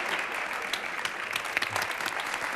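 Steady applause from a crowd at a PES political party congress in Madrid, dense clapping that holds evenly throughout at moderate loudness.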